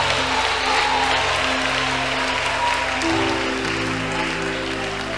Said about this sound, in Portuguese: Desocupem as suas mãos, batam palmas e glorifiquem a Jesus.